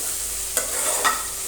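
Garlic fries in a pan with a dense, close sizzle while a utensil stirs it, producing two brief scraping strokes about half a second apart.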